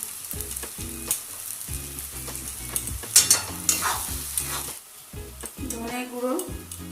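Pea filling is stirred in a frying pan, with a spoon scraping and knocking rhythmically against the pan over a soft sizzle, close and fairly quiet, with brief pauses between bursts.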